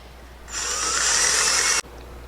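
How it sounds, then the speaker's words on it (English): A power driver fitted with a number 2 Phillips bit sinks a wood screw into a wooden lip on a side rail. It gives one close, steady whirring burst of just over a second, then stops abruptly. "take your number 2 Phillips bit for the wood screw provided and go ahead and attach that to the wooden lip"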